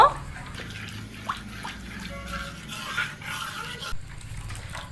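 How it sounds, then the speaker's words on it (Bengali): Milk powder stirred into warm water in a bowl, a continuous soft watery swishing with a few faint clinks, fairly quiet throughout. "এবারে জলের সঙ্গে দুধটা খুব ভালো করে মিশিয়ে নেব"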